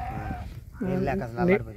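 Sheep bleat in a large flock of about six hundred animals on open harvested fields, one wavering call followed by overlapping, louder bleats close by, with talk in the background.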